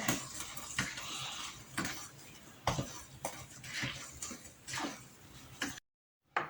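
A spoon stirs M&M cookie dough in a mixing bowl during home baking, giving close, repeated scraping and clinking strokes in an uneven rhythm, with a brief silent gap near the end.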